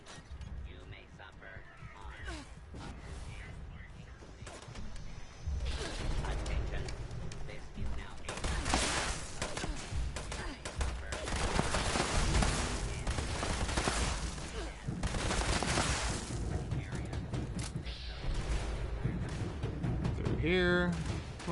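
Dense, continuous gunfire in the video game Fallout 76, with rapid shots and bursts that blend into a noisy roar while a person talks over it.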